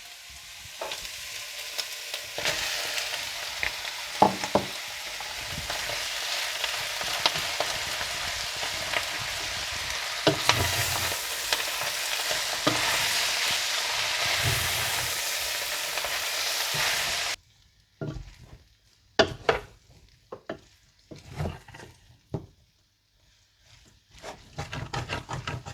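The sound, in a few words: stirring rice stick noodles into a frying pan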